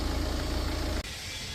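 A Tata Safari Storm, freshly overhauled, idles with a steady low rumble close by for about a second before the sound cuts abruptly to a quieter engine hum.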